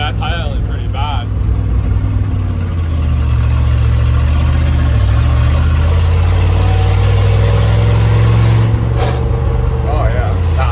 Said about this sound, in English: Oh yeah, it's high idling pretty bad.